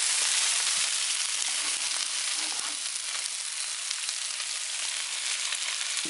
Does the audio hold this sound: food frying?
yes